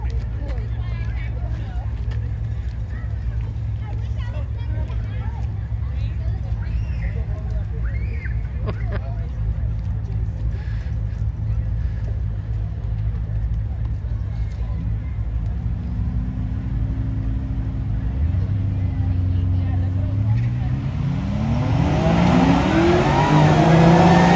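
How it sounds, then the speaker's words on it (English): A 2010 Chevrolet Camaro SS with a stock bottom end doing a burnout at New England Dragway: a low idling rumble, then engine revs climbing sharply in rising sweeps near the end, growing louder, with crowd or announcer speech underneath. "Real nice burnout."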